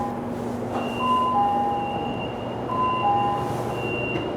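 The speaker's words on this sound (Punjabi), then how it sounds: "ਲੋ ਜੀ ਮੈਟਰੋ ਆ ਗਈ ਆਪਣੀ" A metro train hums steadily at a station in Shenzhen, China, with a sustained electric whine and brief tonal beeps rising over the rumble; no one speaks.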